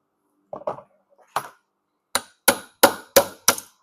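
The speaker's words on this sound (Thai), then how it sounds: "เสร็จแล้วเราก็มาตอกออกนะครับ" Hammer blows knocking a part out of a shorted Samsung washing machine spin motor with aluminium windings: a few soft taps, then five sharp, loud metallic strikes in a quickening rhythm, close up.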